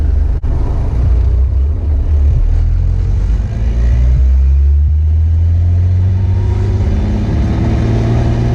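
A turbocharged BMW E46 with the M54 engine accelerates hard, heard from inside the car as a loud, steady low engine rumble with a rising drone and no talk.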